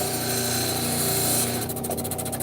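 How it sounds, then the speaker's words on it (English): A large rock saw, up to a 24-inch blade, slicing stone into slabs: a loud, steady mechanical whine and grinding hum, continuous throughout, with a rougher pulsing texture toward the end. "We have multiple rock saws all the way up to a great big 24-inch saw"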